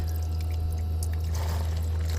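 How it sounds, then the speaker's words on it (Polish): Water pours steadily from an LG HM143MR heat pump into a floor drain in a boiler room, a continuous splash over a loud low mechanical hum. "Sporo wody z nim leci"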